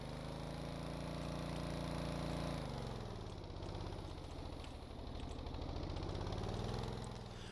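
A vehicle engine in the Stormworks video game pulling away, a steady droning hum that shifts in pitch as it gets moving, continuous and alone.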